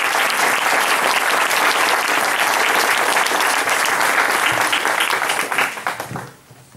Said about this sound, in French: Donc je pense qu'on peut encore l'applaudir pour ça.